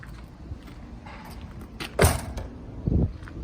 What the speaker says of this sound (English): Screen door, very simple.